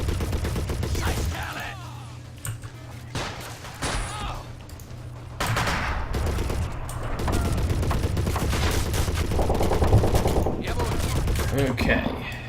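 Gunfire rings out in the Men of War video game, rapid overlapping shots and bursts amid battle noise, loud and continuous across the scene, with a voice briefly audible.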